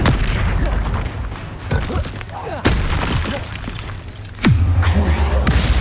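Booming blasts from the Bombarda explosion spell in the video game Hogwarts Legacy hit at intervals. The loud thuds and crackling bursts sit over a steady low game rumble and battle noise.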